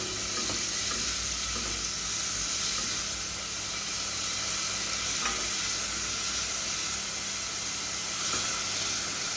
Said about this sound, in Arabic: هننزل بالبصل، حاطين ماده دهنيه، حاطين زيت سمنه اللي انتوا عايزينه